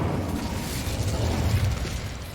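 Incendio fire spell cast in Hogwarts Legacy, a steady roaring, crackling burst of flame with a deep rumbling low end that holds for a couple of seconds, loud and close, with no voices.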